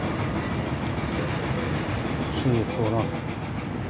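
Riding aboard a tram with seated passengers, a constant rumbling roll along the rails fills the space, with a brief squeal near the end, while someone talks over it.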